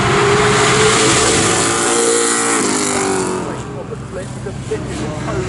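A V8 touring car's Rover 3.5 litre engine roars loudly at high revs, pitch sweeping as it passes close by, then fading, with commentary talk over it.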